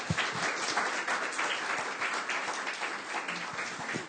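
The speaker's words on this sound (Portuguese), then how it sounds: "Por favor, uma salva de palmas." Audience applause at a talk event about studying in Japan, a dense, sustained wash of many hands clapping, loud and even throughout with a few sharper claps standing out.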